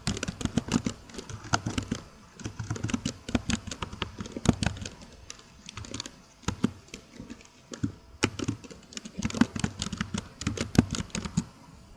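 Keys clatter in quick, uneven bursts as email addresses are entered on a computer keyboard, with a steady rattle of close taps and short pauses between runs.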